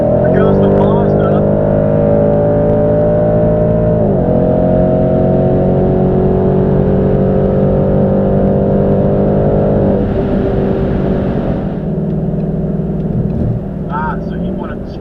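A car engine drones loudly and steadily during a highway run, with a Mazda going by. The tone shifts in pitch as it accelerates and eases off, heard from inside a moving vehicle.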